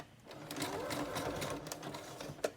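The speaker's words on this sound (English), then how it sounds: "I'm just using a fairly long and pretty wide zigzag stitch" A sewing machine runs steadily through a fairly long, wide zigzag stitch in peach-colored thread, sewing down layered paper strips for a craft project, with a continuous close whir and a brief clunk near the end.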